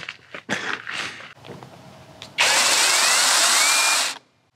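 Battery-powered pole saw chainsaw whirring at full speed for nearly two seconds with a steady high electric buzz, close and loud, after some handling clicks and shuffling.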